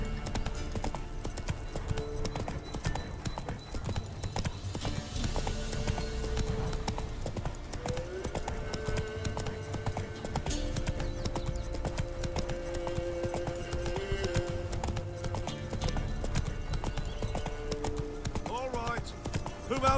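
Roach the horse gallops in The Witcher 3, a steady clip-clop of hooves running under game music, with a voice speaking briefly over it.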